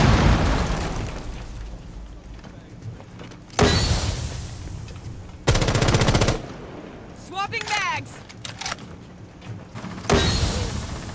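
In Rainbow Six Siege, a grenade detonates and rapid gunfire rings out. Loud, sharp bursts and booms come in several separate blasts across the stretch, with quieter rattles and brief electronic whines between them.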